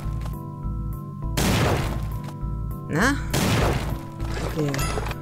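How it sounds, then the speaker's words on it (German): Two heavy, booming video game explosions with crashing debris burst out over a steady hum, with a short spoken word between them. "Doch, die explodieren."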